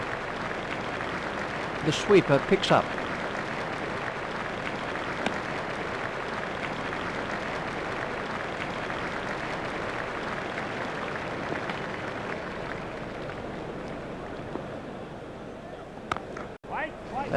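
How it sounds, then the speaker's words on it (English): Simulated stadium crowd applause in a cricket video game plays as a steady broad roar, with a commentator talking over it and a few sharp knocks standing out. "The crowd are giving him an excellent round of applause."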